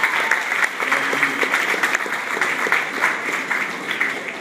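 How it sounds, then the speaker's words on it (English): An audience applauds at an awards event honoring men of power and influence, steady dense clapping from a sizable crowd filling the room without pause. "Please give a round of applause to 2012 Man of Power and Influence, Commissioner Lee May."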